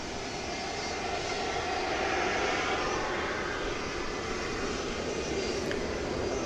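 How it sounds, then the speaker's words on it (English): A United airliner bound for San Francisco moves at DFW Airport at night, its engine noise a steady, broad roar that holds level throughout with no voices over it. "There's United Flight 2213 that's going to San Francisco."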